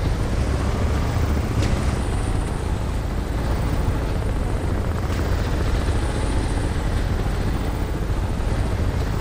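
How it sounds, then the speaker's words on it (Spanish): Helicopter hovering nearby in the video game Crysis Remastered, a steady loud rotor drone that holds evenly throughout with no speech over it. "Helicóptero, sal."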